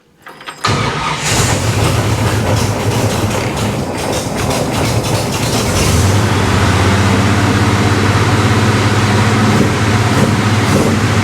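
A burnt-down 1955 Chevy Bel Air fitted with a new carburetor cranks and fires, then settles into a loud, steady, close engine run with a low rumbling idle that deepens after a few seconds, with no talking.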